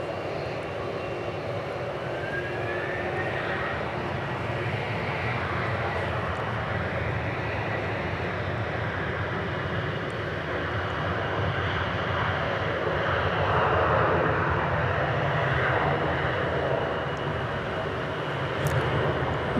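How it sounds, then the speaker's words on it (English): An Air Canada airliner taxis at Dallas/Fort Worth airport, its jet engines a steady, distant broadband roar that swells slightly toward the end, with no talking. "Air Canada now on the move."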